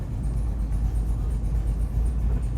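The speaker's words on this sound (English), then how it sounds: "That's a good noise this thing makes. Really healthy 351 under the hood here." A 1969 Ford Mustang Mach 1 with a built 351 V8 rumbles steadily from inside the car on the road, a deep, continuous low engine drone at moderate volume with no talking.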